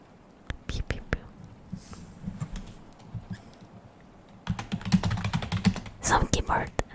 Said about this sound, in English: Some keyboard sounds for you while I do that.